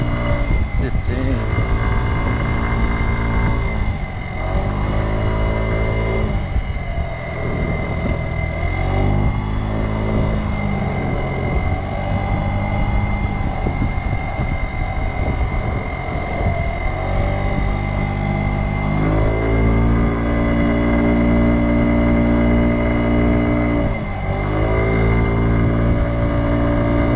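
A Kymco Agility 50 scooter rides through a neighborhood, its small engine droning and rising and falling with repeated throttle changes, wind noise throughout, and a voice talking over it at times.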